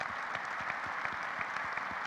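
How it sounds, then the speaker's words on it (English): An event audience claps for two guests, a fairly faint, even patter of many hands heard from a distance and sustained for the whole moment. "Let's have a nice round of applause for them."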